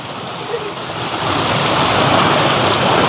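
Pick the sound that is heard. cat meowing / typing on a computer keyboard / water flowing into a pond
water flowing into a pond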